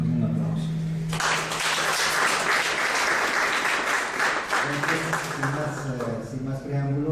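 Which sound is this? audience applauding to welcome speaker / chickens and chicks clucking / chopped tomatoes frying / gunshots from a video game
audience applauding to welcome speaker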